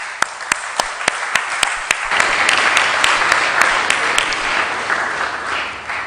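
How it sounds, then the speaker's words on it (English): Audience applause at a public forum, opening with evenly spaced sharp claps from a few hands before a full room joins in a loud, sustained round that slowly tapers. "Let's give another round of applause."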